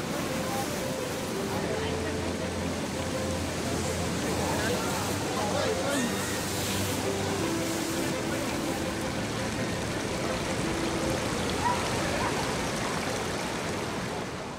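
Fast, straight streams flow through the Englischer Garten park in Munich, a continuous rushing wash of water heard throughout, with a steady voice talking over it.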